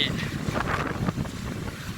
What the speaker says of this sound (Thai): บรรยากาศของลมพัดเลยครับ